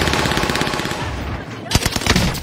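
Rapid automatic gunfire from a shooter video game rattles loud and continuous, breaking into separate shots toward the end.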